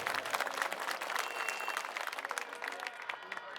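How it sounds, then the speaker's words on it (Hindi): Dense, sustained applause from a large rally crowd at an Aam Aadmi Party political gathering in Mangolpuri, Delhi, loud and continuous throughout with a steady wash of clapping. "मैं चाहता हूं जोरदार तालियां उनके लिए एक बार आप लोग बजा दीजिए।"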